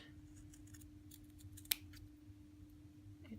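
Scissors snip through excess fabric backing in a single sharp, close cut, with a faint steady hum underneath and no talking.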